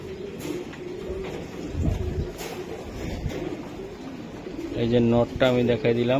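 Racing pigeons coo in a loft while someone talks over them, and louder repeated coos rise clearly near the end.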